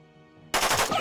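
In Jagged Alliance 2, a sustained burst of loud automatic gunfire erupts after a brief quiet moment of faint tonal game sound and carries on to the end as rapid, close shots.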